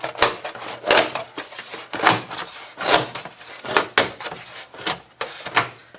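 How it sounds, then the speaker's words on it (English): Scissors cut through cheap foam board in a string of rough, crunchy snips, each stroke close and fairly loud, repeating at an uneven pace. "just trim this down with scissors or whatever you've got lying around"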